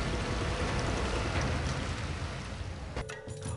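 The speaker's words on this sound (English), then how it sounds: "It starts to rain." Rain falling as a steady broadband wash of drops, fairly faint and even, with a brief tonal disturbance near the end.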